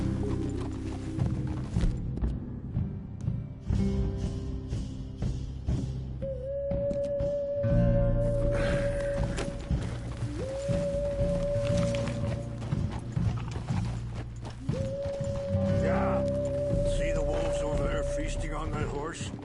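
Horse hooves clip-clop at a steady riding pace in Red Dead Redemption 2, mixed with sustained musical tones and game ambience, with voices at times.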